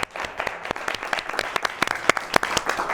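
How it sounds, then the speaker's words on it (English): A small studio audience claps on a community television talk show, with individual claps distinct and uneven over a light background patter, fairly close and unaccompanied by speech. "let's clap for that"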